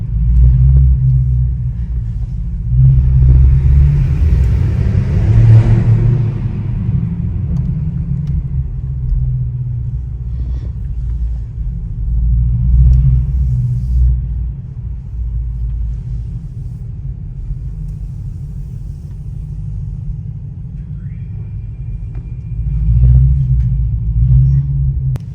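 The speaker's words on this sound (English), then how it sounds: "Straight pipe Audi S7, bruh." A straight-piped Audi S7 rumbles steadily while driving through downtown Toronto, a deep, continuous exhaust drone that swells in a few louder surges, close and loud with no talking over it.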